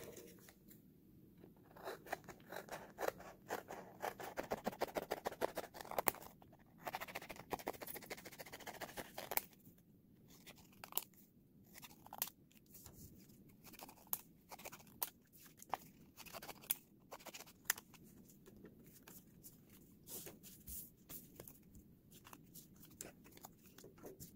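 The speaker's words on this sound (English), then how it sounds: "the first thing I'm gonna do is go ahead and cut out the lottery tickets" Scissors cut out homemade paper lottery scratch-off tickets: a quick run of rapid snips, then scattered crisp single cuts and paper rustles, close and fairly quiet.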